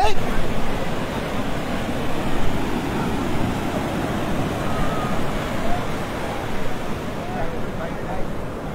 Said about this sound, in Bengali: অনেক দূরে এই ঢেউগুলো আসতেছে